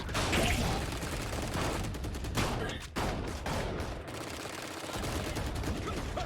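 Rapid gunfire in the tactical shooter game Valorant: sustained bursts and volleys of shots fill the mix, loud and close, with a brief lull near the middle.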